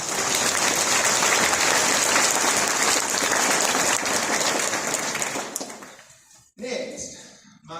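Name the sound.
audience applause at awards ceremony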